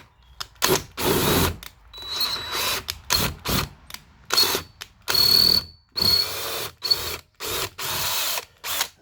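A power drill is run in reverse to force its bit through a throttle shaft part. It gives repeated short, close whirring bursts separated by brief pauses, with no talking.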